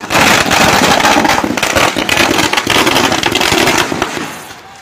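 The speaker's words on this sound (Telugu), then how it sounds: "ఎస్ఐ ఏసీబీకి చిక్కడంతో ప్రజలు టపాకాయలు కాల్చి ఆనందోత్సాహాలతో సంబరాలు జరిపారు." Firecrackers go off in a celebration, a dense rapid string of loud cracks and pops bursting continuously for several seconds before fading away at the end.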